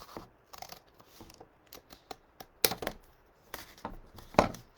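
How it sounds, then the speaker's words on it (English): Scissors cut through paper along a crease in a quiet room, a series of crisp irregular snips and rustles, a few louder and sharper than the rest, with no talking. "I'm going to cut along this crease."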